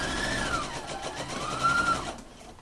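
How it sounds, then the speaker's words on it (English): Sewing machine stitching onto stay tape along an inseam pocket, a short steady whirring run close up that fades at the end, with no talking. "I'm now starting to sew onto the tape. I'm going to back tack"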